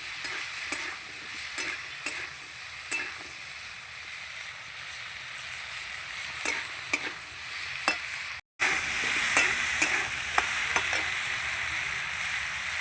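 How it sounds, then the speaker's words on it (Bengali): Frying fish-head curry with pui greens stirred in a hot pan, soft scrapes and sizzling ticks, then a sudden louder hiss and bubbling as water goes in near the end. "এবার আমি জল দিয়ে দেবো।"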